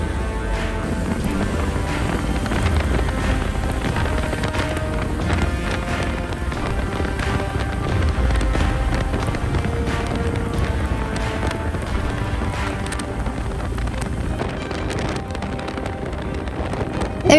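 Steady, loud wind buffets the microphone on a motorcycle road trip, a continuous low roar with gusty rumbling that carries on without pause and masks any other sound.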